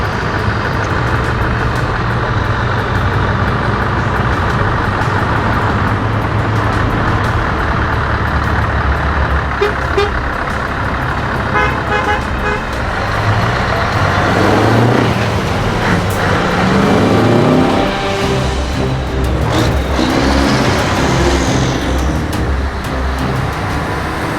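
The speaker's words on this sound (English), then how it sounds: "So all the trucks are just queuing here at the moment, getting ready to go out on the track" Trucks idling and queuing beside the track at the Gowran Festival of Speed in Ireland, a continuous deep engine rumble with passing vehicles and occasional revs swelling in the middle, busy and fairly loud.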